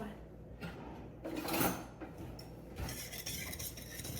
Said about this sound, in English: we need to whisk this together